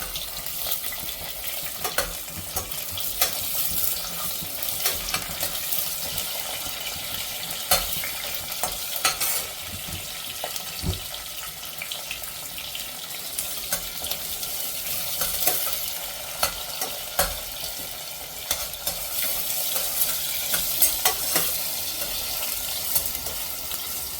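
Onion frying with whole spices in a pan for veg pulao, a steady hiss and sizzle broken by scraping stirs and occasional clinks, close and continuous with no talking.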